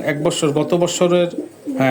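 A female teddy racing pigeon coos in low, throaty pulses close at hand, mixed with a person's voice talking over and between the calls.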